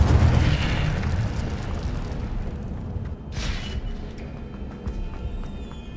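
Incendio fire spell cast in Hogwarts Legacy, a deep roaring burst of flame that rumbles steadily, with a sharp whooshing flare partway through, loud and close with no voices.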